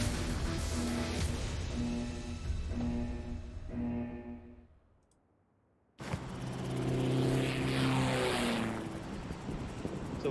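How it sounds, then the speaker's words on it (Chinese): An airplane in a squad shooter video game hums with a steady engine drone before the players drop. It fades away almost to silence, then abruptly returns loud and rumbling. "飞机很快就要起飞了，各位特种兵请准备。"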